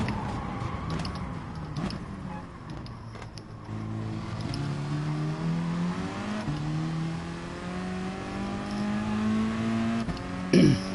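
Race car engine in Gran Turismo Sport, revving and accelerating through rising and falling pitch sweeps, loud and steady throughout with a sharp burst near the end.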